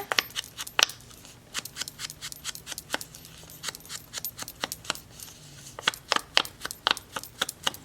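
Scissors snipping through a journaling card, a quick series of sharp, close cuts in irregular bursts with short pauses between, crisp and fairly quiet.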